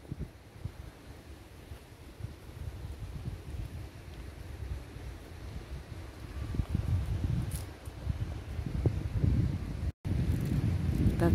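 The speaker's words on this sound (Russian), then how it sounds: "Так сильно шумит ветер, деревья." Steady wind roaring and gusting through park trees, including a weeping willow, in Germany, with a broad rushing noise like trees tossing, growing stronger toward the end and buffeting the microphone.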